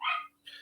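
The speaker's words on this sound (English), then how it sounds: "excuse the dog in the background" A dog barks twice at a door in the background, two short, fairly faint yips separated by a brief pause over a low steady hum.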